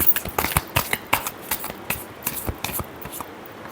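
Tarot cards shuffled by hand during a reading, a quick run of crisp riffling flicks and soft slaps in an uneven rhythm, close and alone without talk.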